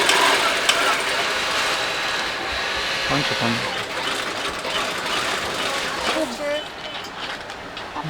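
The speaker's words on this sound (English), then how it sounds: "See this guy on the sewing machine." Sewing machines whir steadily in a clothing workshop at Phnom Penh's Russian Market, a continuous mechanical hum under market bustle, with a voice speaking briefly.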